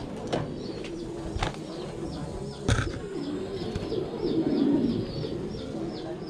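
Pigeons coo in soft repeated low calls nearby, with a few sharp clicks and taps mixed in against a quiet background.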